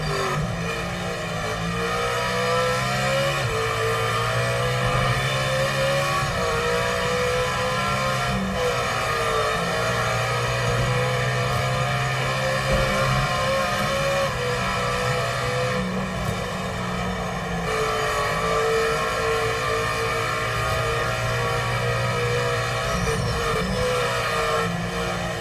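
A Corvette engine in a racing video game drones and revs continuously, loud and close, holding a steady high pitch with slight rises and falls.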